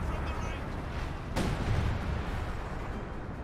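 Base artillery guns firing in the Company of Heroes 2 game: a dense, continuous rumble with one sharp blast near the middle, layered under steady battle noise and a game soundtrack.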